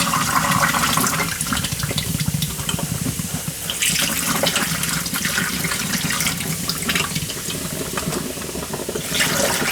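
Baking soda mixed with water fizzes and bubbles over car battery plates in a steady, dense hiss, close and continuous throughout with no talking.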